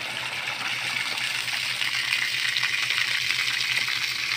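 Water gushes out steadily as a deep well is drained, a continuous hissing, splashing rush heard fairly close with a faint low hum beneath it.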